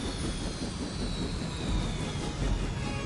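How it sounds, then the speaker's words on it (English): An aircraft engine drones in a video game (Marvel Midnight Suns) as a helicopter is brought down, a dense, steady roar with a faint high whine held at an even level for about three seconds. "You've grounded the helicopter."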